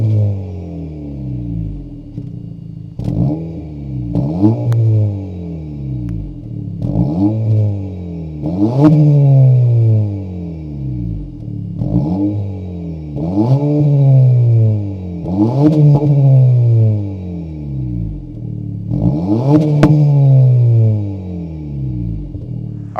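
The 1.5-liter turbocharged four-cylinder engine of a 2026 Honda Civic Si revs over and over at idle, with roughly seven sharp throttle blips, each climbing and falling back to a burbling idle, close and loud.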